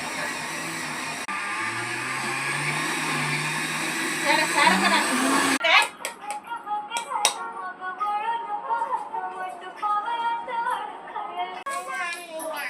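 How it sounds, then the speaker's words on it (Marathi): A mixer grinder grinds peanut chutney with a loud, steady whine for several seconds before cutting off, after which someone talks, with a voice heard in the background. "चला घट मस्त चांगला बारीक वाटून घ्यायची"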